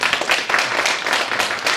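Audience at a wildfire aerial firefighting seminar applauding to welcome guests, a dense burst of many hands clapping close by, fairly loud and steady for the whole stretch.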